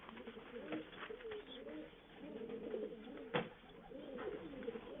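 A racing pigeon coos in low, throaty rolling phrases, repeating several times at close range, with faint background noise and an occasional knock.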